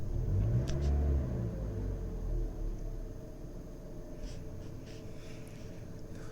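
A 2010 Toyota Corolla engine idles after throttle body cleaning, a steady low rumble heard up close with a brief rise at the start before it settles into an even, continuous hum, with no talking.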